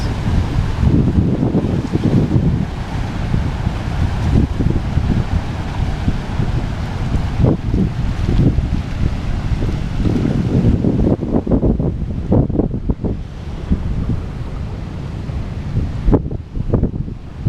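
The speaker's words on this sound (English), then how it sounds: "Some big waves." Big ocean waves break on lava rocks along the Road to Hana coast, a loud, continuous rolling surf with repeated crashing surges and strong wind buffeting the microphone.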